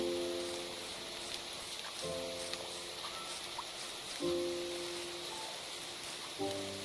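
Minecraft rain hisses softly and steadily while gentle in-game music notes enter in spaced clusters roughly every two seconds, all quiet and without speech.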